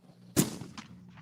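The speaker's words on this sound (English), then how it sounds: "Oh, gunshot." A single sharp gunshot in a video game, a sudden loud crack that fades into a short echoing tail, with a fainter report following.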